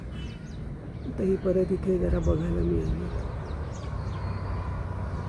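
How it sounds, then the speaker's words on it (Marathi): Birds call faintly outdoors among hills and flowers near Nashik, a soft cooing phrase and scattered chirps sitting behind someone speaking close by. "पक्ष्यांचे आवाज येत आहेत का"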